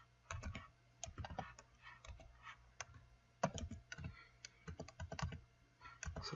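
Computer keyboard typing as an address is entered, quick irregular bursts of clicky keystrokes close up, no talk.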